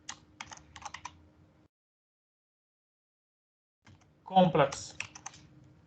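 Computer keyboard typing as code is entered, a short burst of quick clicking keystrokes, then silence, then another brief flurry of keys with a person speaking over it.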